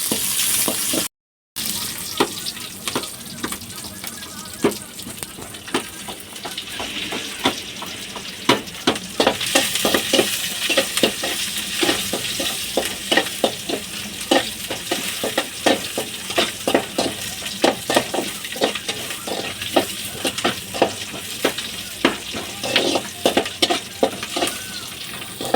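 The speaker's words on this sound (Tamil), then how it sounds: "நெக்ஸ்ட்டு வெங்காயம், நல்லா பொன்னிறமாக ஆகிற வரைக்கும் நல்லா வதக்கி விட்டுறலாம்." Onions sautéing in a pan until golden while parotta is made, a steady close sizzle with repeated scraping stir strokes running throughout, no talk.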